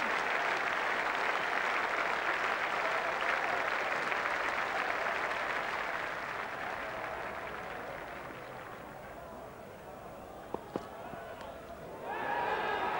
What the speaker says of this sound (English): acknowledging the applause of the crowd and his West Indies colleagues